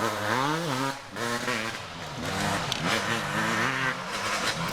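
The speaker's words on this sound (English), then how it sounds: "Baylor not as hard on the throttle as we've seen pretty much the entire day. Not really whining out that KTM 250." A KTM 250 enduro motorcycle goes by on a national enduro course near Westpoint, Tennessee, its engine droning loudly and steadily with its pitch rising and falling as the rider goes easy on the throttle, with no voices over it.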